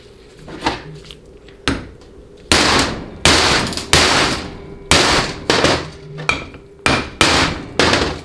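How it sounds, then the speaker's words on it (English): Hammer blows drive a seal into the pump bore of a Chrysler/Jeep A904/A998 automatic transmission using a bushing driver: about a dozen loud, sharp metallic strikes, irregular at first and then steady, each ringing briefly, with no talk. "just get good sized bushing driver and get the seal square as you can in the bore"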